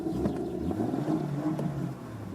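A 2016 BMW M2's engine gives a rich, loud, sonorous note, a close, steady low growl with slight swells in revs that eases a little toward the end, with no voices.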